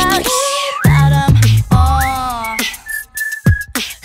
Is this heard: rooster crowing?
no